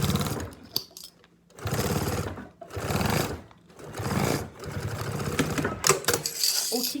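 Thick fabric, a travel pouch with a clear window, is stitched on a sewing machine fitted with a size 21 needle, which hums in several strong, close bursts with brief gaps between them.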